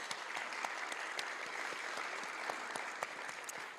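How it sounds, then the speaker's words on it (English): Audience applause at a city accessibility day event, a dense patter of clapping hands sustained evenly throughout, moderately distant. "yes, a round of applause, please."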